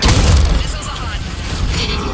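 A missile launch in Mass Effect 3 comes as a loud, deep booming rush with a mechanical rumble, sustained and close over continuous battle noise.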